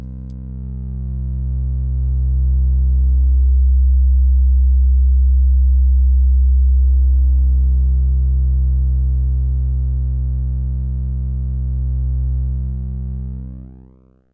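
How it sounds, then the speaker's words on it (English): A steady synthesizer sine-wave tone from a DPO oscillator patched through a Cold Mac module, with a low hum and overtones that swell partway through and shift in timbre, sustained and loud throughout. "And if we use a sine wave,"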